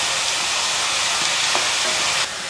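Chopped tomatoes sautéing in a pan for chilli parotta made with wheat flour, giving a steady close sizzle and hiss throughout with faint stirring ticks, then a slight drop in level near the end.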